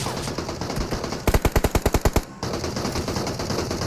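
A rapid burst of about ten automatic rifle shots in PUBG Mobile, loud and evenly spaced, set against steady game ambience with no voices.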